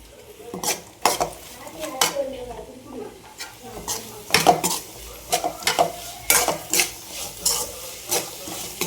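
Vegetables being stirred and sautéed in a pan on a home stove: a spoon scrapes and knocks against the metal in repeated strokes over a steady low sizzle, close and clear.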